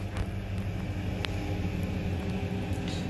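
A service lift elevator motor runs as the blue cab travels downward automatically, giving a steady, moderately loud low mechanical hum with a faint brief whine partway through.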